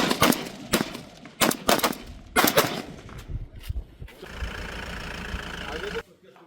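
Gunfire from BSF soldiers at the Jaisalmer border: several loud, sharp bursts in quick succession over the first few seconds, followed by a steady mechanical rumble, with voices mixed in.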